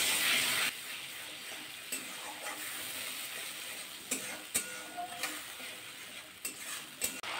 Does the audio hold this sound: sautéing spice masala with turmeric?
yes